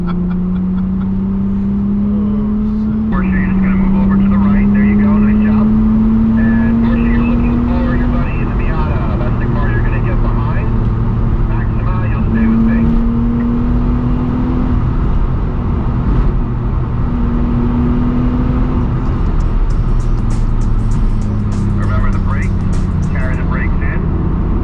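A 2000 Nissan Maxima lapping the Lime Rock Park racing circuit, its engine note climbing and dropping through gear changes, loud and steady from inside the car, with someone talking over it.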